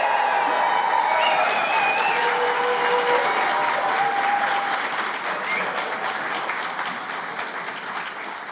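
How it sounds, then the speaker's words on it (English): Graduates and guests at a nursing and midwifery graduation ceremony clap and cheer together, a loud, dense wave of applause with some whistles that slowly fades toward the end. "Big cheer for the graduating class of 2026 on 3."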